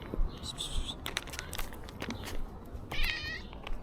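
Several hungry street cats meow close by as they are fed: a few distinct, rising meows come over quiet shuffling and outdoor background noise.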